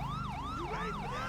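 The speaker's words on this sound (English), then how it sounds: "Stock siren" A stock police car siren in the GTA 5 video game wails in smooth rising and falling sweeps, loud and close, repeating steadily with no talking.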